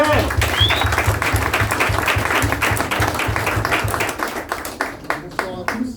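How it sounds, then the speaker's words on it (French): Audience applause at a French boxing team social event, a dense wash of clapping from a crowd that holds steady and then thins out near the end. "je voudrais qu'on l'applaudisse encore une fois"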